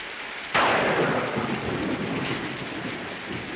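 A sudden thunderclap breaks over steady heavy rain in a 1964 Western, the crack rolling off into a long rumble while the downpour hisses on throughout.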